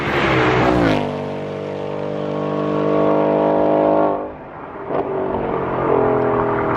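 A Ford Mustang GT's V8 engine revs hard through its gears with a deep exhaust growl, drops off briefly, then accelerates again, loud and close.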